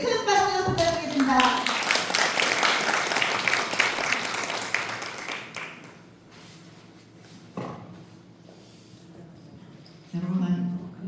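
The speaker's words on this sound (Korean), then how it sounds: "큰 박수 부탁드리겠습니다" Audience applause greets a lecturer at a women's committee event on ESG and gender equality, loud sustained clapping for several seconds before fading into quiet room noise, with a short burst of talk near the end.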